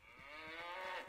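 A cow in the video game Icewind Dale gives one long, low, drawn-out moo that swells and fades over about a second, close and clear with no other sounds.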